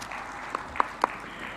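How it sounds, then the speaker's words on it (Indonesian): An audience at a Pemuda Pancasila regional congress in Jakarta gives brief applause, heard as a few scattered sharp claps over a faint murmur of the hall. "tepuk tangan buat kita semua."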